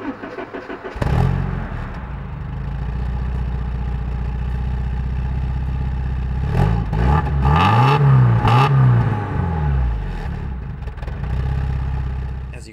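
An old car engine running rich idles with a rough, uneven rumble, then revs up in several surging bursts before settling back to a loud, steady idle close by.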